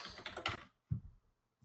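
A short burst of quiet keystrokes on a computer keyboard, a quick cluster of taps followed by a couple of softer clicks, then silence.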